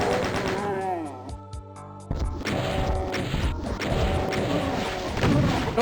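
Rocket launcher firing and blasting in Doom 2, with heavy repeated booming impacts and explosions layered over thick, continuous combat noise, loud and close throughout.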